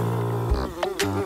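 A cartoon housefly buzzes close by in short, uneven bursts, its droning hum rising and dipping over about a second with a few sharper accents.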